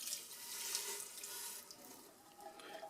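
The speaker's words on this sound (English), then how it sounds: "I got I guess it's around a 15-ounce can of beef broth going in with that beef" A 15-ounce can of beef broth pours into a soup pot holding beef, giving a faint, steady liquid splash that tapers off near the end.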